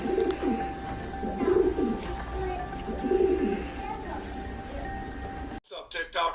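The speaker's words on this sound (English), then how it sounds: "These are all pigeons." Pigeons coo in soft, repeated rounded phrases nearby against a steady outdoor background hum, with a person talking briefly at the end.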